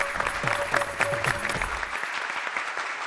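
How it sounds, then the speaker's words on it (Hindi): Studio audience applauding performers, a dense steady clapping near and loud for about two seconds, with a few individual claps standing out and a voice line briefly above it, before fading to faint scattered noise. "जरा जोरदार तालियां बजाइए।"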